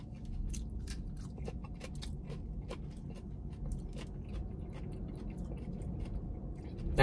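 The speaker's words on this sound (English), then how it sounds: "Do you guys hear that crunch?" Crunchy fresh fried food, eaten with a mayo-based hot sauce, chewed close to the mic: repeated sharp crisp bites and crunches over a steady low background rumble, no talking.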